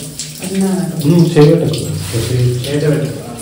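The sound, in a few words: thin stream of water pouring over flowers during temple abhishekam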